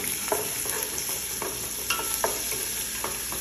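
Half a tablespoon of ginger and garlic frying in a pan while being mixed: a steady close sizzle with repeated spatula scrapes at irregular intervals, no speech.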